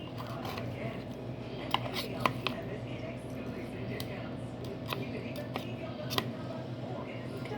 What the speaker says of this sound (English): I'm going to go ahead and cut up his broccoli